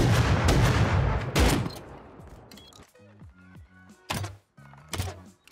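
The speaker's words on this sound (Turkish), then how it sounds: "sıkıyorum işte silah" Gun firing in the Rust survival game, loud heavy shots and a dense burst at first, followed by quieter scattered thuds and single shots with a repeating low mechanical pattern underneath.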